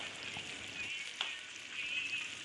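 Chicken frying outdoors in a pan as spices are added, a steady bright sizzle with faint stirring scrapes, close and continuous with no talk.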